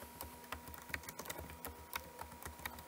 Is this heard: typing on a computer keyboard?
yes